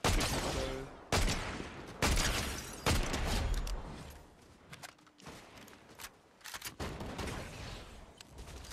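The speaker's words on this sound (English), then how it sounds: "we're getting shot from the east" Gunfire bursts in a Fortnite match, loud broadband shots and sustained volleys crackling across the whole clip, with sharp bursts near the start and fainter exchanges later, no talk over it.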